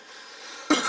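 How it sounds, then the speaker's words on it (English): A single sharp cough from a person with allergies, close and fairly loud, breaking out abruptly after a second of quiet room tone. "Had to cough there for a second."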